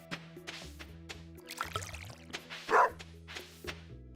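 A dog in the farming game Stardew Valley gives a few short barks over light, plinking background music, with a small splash of water partway through.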